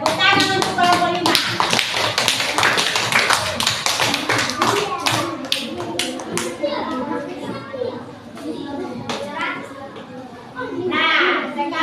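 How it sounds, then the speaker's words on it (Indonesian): Students in a primary school classroom clap for a group, a loud run of rapid, uneven claps that fades somewhat midway and swells again at the end, with children's voices chattering throughout. "Tepuk tangan untuk kelompok 5."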